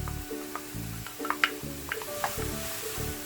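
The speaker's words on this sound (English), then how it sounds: "And now I'm going to add the peppers I have prepared." Prepared peppers go into a pan of softening onions, setting off a soft, close sizzle, with light stirring taps and scrapes against the pan, alone without talk.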